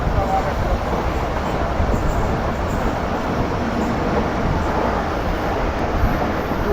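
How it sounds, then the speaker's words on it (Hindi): Heard from on board another moving train, the oncoming 14 Down Awam Express between Peshawar and Karachi makes a steady loud rumble of wheels and carriages that carries on evenly throughout. "सामने से इस वक्त आ रही है हमारे पेशावर और कराची के दरमियान चलने वाली 14 डाउन"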